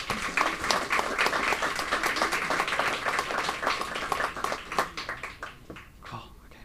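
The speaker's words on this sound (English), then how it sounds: "Another round of applause for them" Audience applause at the 2018 Mind Sports Olympiad, a sustained crowd clapping of moderate loudness that holds steady for several seconds before thinning out, with some murmured voices mixed in.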